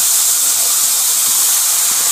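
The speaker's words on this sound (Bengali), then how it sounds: "তেলটা গরম হওয়ার পরে আমরা প্রথমেই বেগুনটা ছেড়ে দিচ্ছি" Chopped eggplant dropped into hot oil, giving a loud, continuous broadband hiss that stays even across the short moment, close up with no talking.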